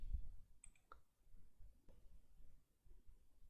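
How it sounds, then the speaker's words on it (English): A single short mouse click as Next is pressed in the PostgreSQL installer on Windows 11, a faint sharp tick in a quiet room with low background hum. "Click next."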